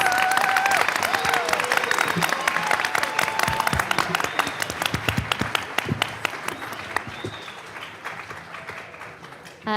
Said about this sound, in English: one more round of applause for these highly effective teachers